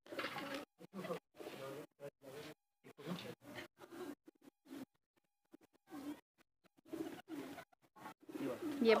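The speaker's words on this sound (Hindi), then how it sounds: "ये वाला कबूतर देखें कितना प्यारा है।" Soft, low cooing from pigeons in short bursts separated by brief pauses, fairly close, with light scratchy rustling between calls.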